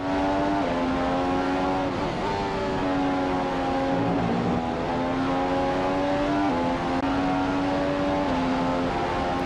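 Formula 1 race cars in the F1 2015 video game at Monza, engines screaming loud and close in a continuous high-pitched whine, with pitch rising through gears and dropping at shifts, no talking.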